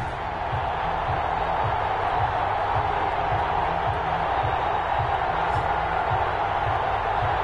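Stadium crowd at an NFL game between the Seattle Seahawks and the Washington football team in a football video game, a steady loud roar of the crowd with faint cheers and a rhythmic low thumping underneath.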